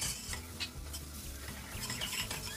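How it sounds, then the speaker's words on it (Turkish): Food sautéing in a pan while being stirred, a busy close sizzle mixed with repeated scraping and utensil clinks, with no talking. "Bakın kavurmaya devam ediyorum. İyice kavuracağım."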